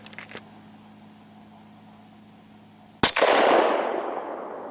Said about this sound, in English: next up we have the Glock 19 4-inch barrel, 5 rounds